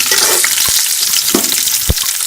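Onions frying in a hot pan for Chinese vegetable fried rice, a loud, close, steady sizzle broken by three distinct spatula knocks against the pan, no voices.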